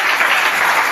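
A church congregation applauding to acclaim the Lord, with dense, steady clapping filling the whole short moment at close, loud level.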